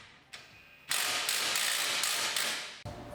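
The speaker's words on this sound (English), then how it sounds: "We will be torquing these bolts to around 90 foot-pounds." A torque wrench ratchets as bolts are tightened to about 90 foot-pounds on the rear suspension of an Audi RS3/S3/A3 during a lowering-spring install: a steady, close run of metallic clicking for roughly two seconds after a few faint touches.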